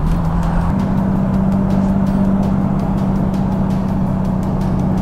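A Jaguar Mk2 engine, freshly rebuilt, drones steadily from inside the cabin, a low, even hum with road rumble as the car cruises along at constant speed.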